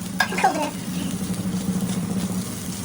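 Rice and freshly grated coconut roast together in a pan for sweet Koli-style narali bhat, with a steady close scraping stir over a soft continuous sizzle. A voice briefly speaks near the start.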